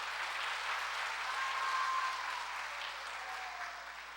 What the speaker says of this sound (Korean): 우리 박수로 맞아 주십시오.